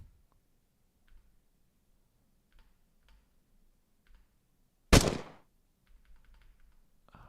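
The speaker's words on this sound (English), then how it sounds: "watch out for the gunshots." A single sharp gunshot from a simple beginner-made pipe-dodging video game cracks out loudly midway, standing alone above faint scattered ticking and clicking game sounds.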